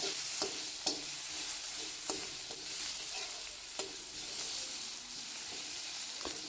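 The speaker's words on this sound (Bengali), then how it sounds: "তারপর আমি এর মধ্যে অল্প কালিজিরা আর অল্প কুচি করা পেঁয়াজ দিয়ে দিলাম।" Nigella seeds and chopped onion fry in hot oil with a steady, loud sizzle, broken by occasional scraping stirs of a spatula in the pan; no voices.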